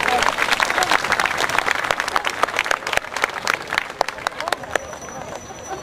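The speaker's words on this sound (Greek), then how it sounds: "το χειροκρότημά σας μαρτυρεί και επιβεβαιώνει αυτά που είπα" Audience at a philharmonic concert breaks into dense, sustained applause, many hands clapping close together, gradually thinning toward the end.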